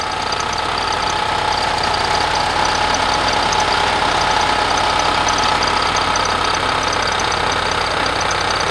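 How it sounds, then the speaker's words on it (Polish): A 1967 Volkswagen Beetle 1200 with an air-cooled four-stroke boxer engine idles nearby, a steady loud chattering drone with a fine rapid pulse and no voices over it. "Boxer, czyli motor przeciwsobny, chłodzony luftem, czterozaworowy i czterosuwowy. I tak to ładzi, zobaczcie."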